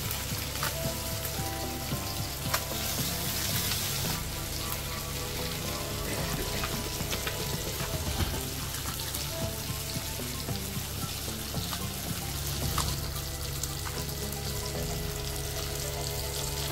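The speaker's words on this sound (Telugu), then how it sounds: "లో ఫ్లేమ్లోనే ఫ్రై చేసుకోవాలి చేపలను" Fish pieces frying in oil on a low flame, a dense, continuous crackling sizzle that stays close and even throughout, with occasional pops and no speech.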